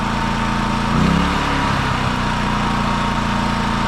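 A Predator 4550 watt inverter generator runs outdoors powering a camper, giving a steady, close engine drone that briefly swells as it revs up, then settles back to an even hum.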